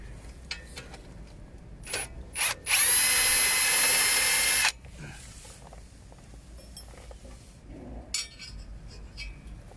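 A cordless power drill whirs for about two seconds while undoing screws on a Junior Peterson portable sawmill outdoors. Scattered clinks and handling knocks come before and after the burst.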